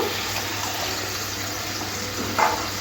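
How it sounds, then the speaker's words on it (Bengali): Water splashes into a pan of cooked-down spice masala for a rui fish curry, a brief, close, continuous pouring sound. "আর একটু জল দিয়ে দেব"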